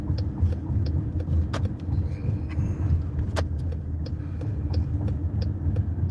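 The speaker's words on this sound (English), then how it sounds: "So that's one of the buses." A city bus rolls along a street in Anaheim, California, a moderate low engine rumble with scattered clinks and street noise around it, heard from nearby without talk.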